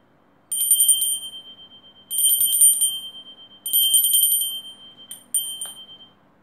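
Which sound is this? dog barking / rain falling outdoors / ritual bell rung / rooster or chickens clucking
ritual bell rung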